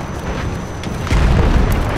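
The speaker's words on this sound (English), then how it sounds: "They threw like four grenades." Grenades exploding in a Battlefield 1 multiplayer operations match on Monte Grappa, a loud booming blast layered over constant battlefield rumble, with the low-end surge thickening partway through.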